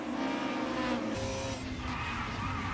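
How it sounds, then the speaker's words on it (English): A loud sim racing car engine roars continuously, its tone shifting as the tires lock and skid under hard braking into a chicane. "big slide there under the brakes. You heard the lockup."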